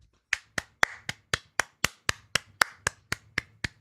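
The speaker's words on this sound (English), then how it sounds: "We always clap for credits around here." Hands clap in a steady, even rhythm while the credits of Alan Wake's American Nightmare roll: about fourteen sharp, close, dry claps with no talking.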